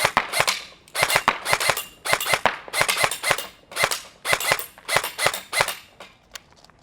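Helios Knight's Armament SR-16E Mod2 airsoft rifle snap firing: rapid bursts of crisp, close cracking shots in quick clusters, nearly continuous for several seconds before tapering to a few isolated clicks.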